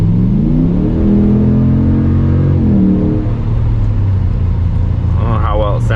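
A Hellcat-swapped Dodge RAM 1500 pickup's engine roars loud and close, its pitch climbing and then easing back to a heavy idle, with a voice starting to talk at the very end.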